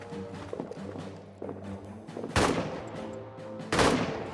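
Rifle shots ring out in a World War I trench warfare video game, starting with a few muffled pops and building to two loud, broad blasts about a second apart, with no voices over them.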